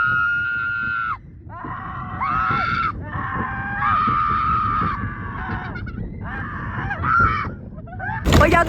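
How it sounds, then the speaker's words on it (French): People screaming on a roller coaster, played back from a recorded video during a Los Angeles trip: several loud, sustained shrieks in bursts with short breaks, over ride rumble, ending on a sharp high cry. "Je laisse la vidéo comme ça vous entendez comment on crie."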